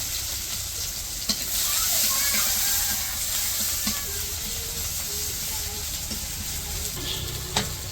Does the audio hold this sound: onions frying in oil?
yes